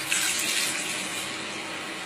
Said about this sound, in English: So pour the water in the bowl.